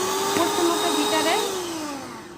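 An electric beater whirs steadily through two eggs and half a cup of sugar for a jar cake, a loud motor hum that dips and then slowly winds down, while a voice speaks over it.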